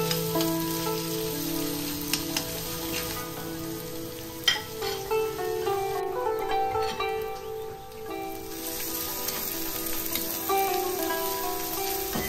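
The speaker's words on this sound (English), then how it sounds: "Heat some coconut oil and saute shallots and curry leaves" Shallots and curry leaves sautéing in hot coconut oil, a dense, rain-like sizzle that runs steadily throughout with occasional stirring clinks, close up, no speech.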